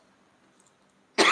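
A single sudden cough from choking on water bursts out at the end after near silence, loud and close.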